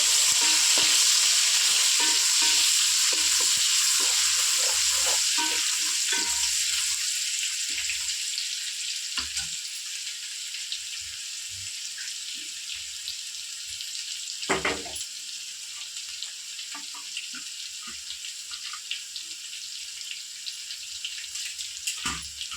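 Three thinly sliced onions fry in hot oil in a pan for egg biryani, a loud, dense sizzle at first that gradually quiets into softer crackling, with a few stirring scrapes.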